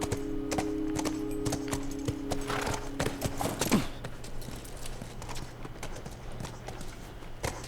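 Horse hooves clip-clopping at a steady walking rhythm in The Last of Us Remastered on PS5, moderately close over a low game ambience hum, with a brief louder burst of sound midway.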